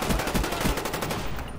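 Rapid SMG bursts from a first-person shooter, Black Ops 1 on Xbox 360, crackling in quick repeated volleys for over a second, loud and close, then cutting off.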